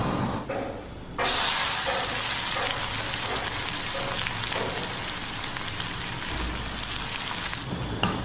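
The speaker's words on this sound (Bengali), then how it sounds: "এই এলাচ দারচিনি লবঙ্গ তেলটাতে দিয়ে দেবো।" Whole cardamom, cinnamon and cloves hit hot oil and burst into a loud, steady sizzle after a second of quieter frying, then crackle continuously and evenly up close until the end.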